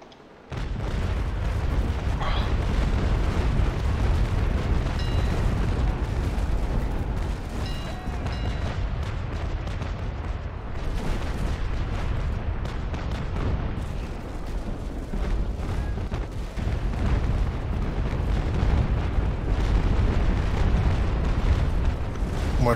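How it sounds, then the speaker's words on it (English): Mortar strike explosions in Naval Action during a sailing-warship battle: a sustained barrage of deep booms and cannon-like bursts, dense and continuous across the whole stretch, loud against a rumbling background. "Mortar strike for Shuhawk at the back"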